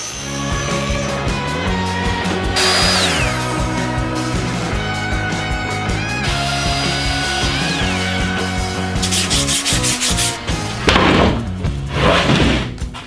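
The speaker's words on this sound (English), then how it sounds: "I'm gonna rip those down here on the table saw." Table saw ripping plywood side walls for a cabinet, a loud sustained motor whine with pitch dropping as the blade bites the sheet in repeated passes, plus rubbing and clattering of the boards between cuts.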